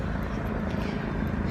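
A helicopter rumbles nearby in a brief, steady low drone with a faint rotor throb and no other sounds.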